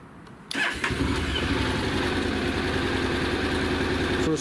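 A motorcycle fitted with auxiliary lights cranks and fires after a brief quiet moment, then settles into a steady, close, even idle that continues to the end.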